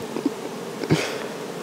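Buckfast honey bees buzz at a hive, a soft continuous drone with a couple of brief louder passes of individual bees close by, and no talking.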